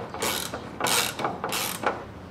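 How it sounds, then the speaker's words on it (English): A ratchet wrench cranks on bolts of a 1989 Ford F-150, three loud, close bursts of rapid clicking in a steady back-and-forth rhythm, with no voices. "I just need to get these 2 bolts out of here."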